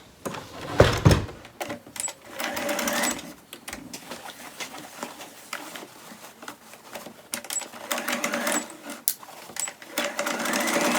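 A domestic sewing machine stitches handles onto a fabric bunny Easter basket, its rapid mechanical chatter running in bursts of varying length, stopping and restarting over thick, bulky seams, close and fairly loud.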